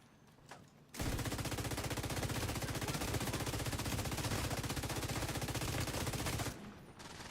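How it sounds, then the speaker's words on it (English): A Pestilence light machine gun in The Division 2 fires one long, very rapid, unbroken burst of about five and a half seconds, loud and close, with quieter moments before and after. "it's crazy to see how fast this pestilence shoots though now"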